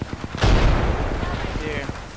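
A grenade goes off in Apex Legends with a loud, close boom that decays into rumbling debris, preceded and followed by scattered gunshot pops.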